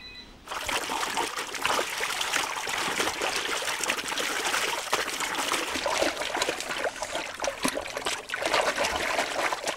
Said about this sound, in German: 3 bis 4 Mal werden die Stoffbahnen durch das schmutzig-braune Wasser gezogen.